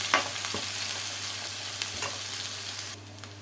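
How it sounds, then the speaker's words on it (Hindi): Onions sizzle and fry steadily in a pan while a utensil stirs them now and then with occasional scrapes. The hiss is close and continuous and eases off near the end. "इसको हम प्याज को जो है वो भून लेते हैं।"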